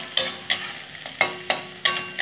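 Onions with coriander leaves, garlic and dried chillies fry lightly in a pan, heard as a soft sizzle broken by six sharp, evenly spaced scraping strokes of a spoon stirring close by.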